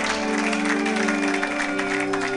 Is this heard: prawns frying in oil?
no